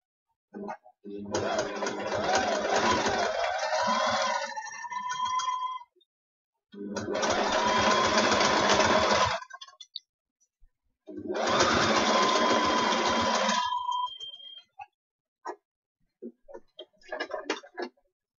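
A sewing machine stitches in three long sustained runs with pauses between, a steady mechanical whirr and rattle during a craft session, followed by a few faint clicks near the end.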